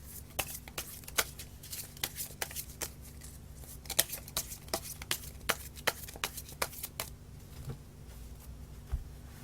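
Tarot cards are shuffled in a quiet room, a rapid irregular series of crisp papery snaps and riffles, close and fairly soft, with no voice over them.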